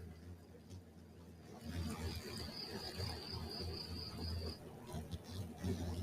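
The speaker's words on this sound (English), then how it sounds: "I have to record the noise that the hive is producing." A steady, low drone of bees humming inside an open beehive during smoke-calmed beekeeping, faint and continuous, with a thin high whine running over part of it and no talking.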